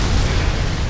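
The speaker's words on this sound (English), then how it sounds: "Look at all that explosion shit." A loud, dense explosion roars in the fantasy video game Hunted: The Demon's Forge, filling the whole short burst with broadband rumble and no pause.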